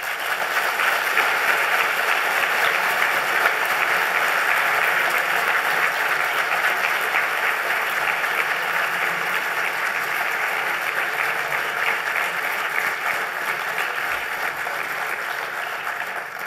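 Applause from a conference audience at the closing of a symposium, a dense, steady clapping from many people that holds for the whole stretch without talk.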